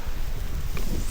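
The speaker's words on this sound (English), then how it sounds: "See what I mean about the wind gusts?" Wind gusts through a snowy mountain forest during a blizzard, a steady broadband roar rising into a stronger surge near the end, blowing snow off the trees, with no voices.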